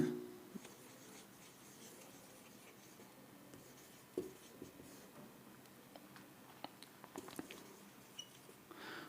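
A teacher writes on a board with chalk or marker while starting a geography lesson, faint scratchy strokes with small taps under a quiet room hum and no talk.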